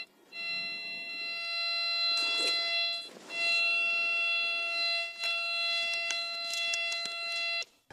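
A detector in search mode, inside a video game, sounds a sustained, multi-toned electronic tone that wavers and swells, almost unbroken for several seconds, with brief noisy bursts partway through.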